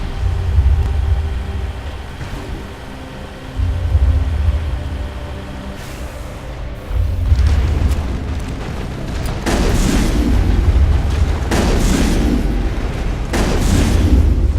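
Heavy shotgun blasts from the Mass Effect video game hit as several loud, broad bursts over a constant low rumbling drone, with a few cracks near the start and a cluster of strong shots in the later half.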